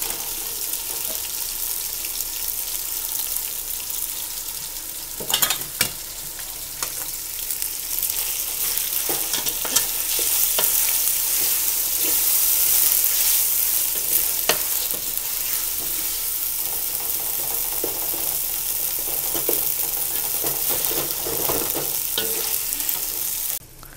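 Tomatoes sizzle steadily in hot oil for mutton kola biriyani, with occasional scraping stirs and clinks from a spoon over a continuous frying hiss.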